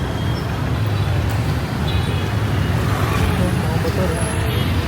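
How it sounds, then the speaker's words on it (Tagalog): Street traffic in Vietnam thick with motorcycles makes a steady, close rumble of engines and road noise with no pauses. "Mga motor talaga dito."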